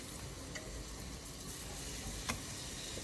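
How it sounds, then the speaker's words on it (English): Seasoned pork chops sizzle in a hot skillet, a quiet, steady crackling hiss with a few sharp pops and ticks scattered through it, and no talking. "You hear that sizzle? It means it's hot and ready."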